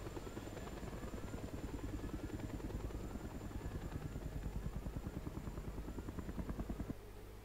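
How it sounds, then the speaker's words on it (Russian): A helicopter in a children's airplane video game falls, its rotor chopping in a fast, even pulse with a steady engine whine, loud and continuous before cutting off abruptly near the end, with no voices. "А вертолет, смотрите, упал вниз."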